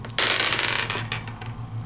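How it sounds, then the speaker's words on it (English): Two dice clatter and tumble across a board game table in a brief, close, rattling burst that fades out. "So let's roll 2 dice."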